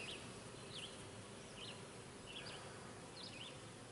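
Guard honey bees fan at a hive entrance on a warm, humid day, a faint, steady insect hum with a few brief higher buzzing passes.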